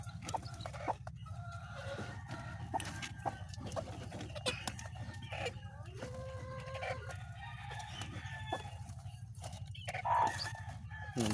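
Newly hatched chicks fill the air with a steady, overlapping chorus of thin peeps and chirps, close by and continuous, with soft clucking-like calls woven through.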